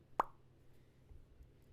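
A single short mouth pop, like an imitated plug being pulled, sharp and quiet against near silence.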